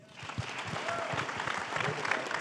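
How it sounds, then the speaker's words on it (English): Audience applause for students at a school district State of DCSD event, a steady, full round of clapping from a crowd that fills the whole stretch at moderate loudness. "How about one big round of applause for our amazing students?"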